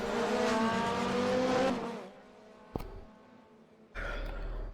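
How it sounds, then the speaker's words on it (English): Race car engine from an Alfa Romeo 155Ti in a racing game at Montreal, a loud steady engine drone that drops away, a sharp click, then the engine roaring back in. "hopefully my engine sounds aren't drowning me out as usual"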